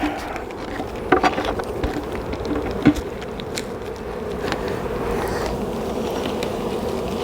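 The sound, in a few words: honey bees buzzing around a hive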